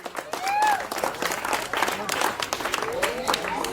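A crowd at a village laddu auction claps in a burst of applause, mixed with an auctioneer's loud voice talking over it.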